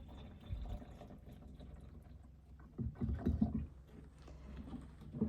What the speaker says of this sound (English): I'm just gonna pour a little sugar syrup in that frame feeder